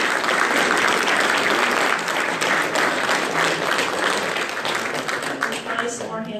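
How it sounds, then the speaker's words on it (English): A lecture audience at a talk in Juneau bursts into loud, sustained applause for the speakers, with dense clapping continuing throughout and tapering slightly toward the end. "I think we should give one more round of applause to our speakers"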